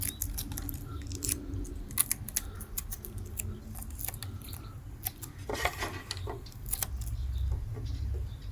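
Scissors snip through a copper band being cut to length for homemade 9-volt Lego train track, giving sharp intermittent clicks and rubbing scrapes close by over a low background hum, with no talking.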